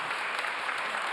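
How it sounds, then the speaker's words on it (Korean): Audience applause at a public event in Busan on maritime development, a dense, steady burst of many hands clapping, loud and close, lasting only a moment without speech. "맞으면 박수를 치셔야 됩니다."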